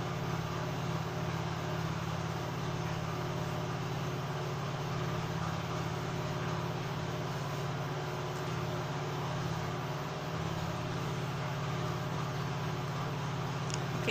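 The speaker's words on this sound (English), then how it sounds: "It's actually a generator that is making that noise." A generator runs in the background, a low steady droning hum that stays constant and fairly faint throughout, with no talking over it.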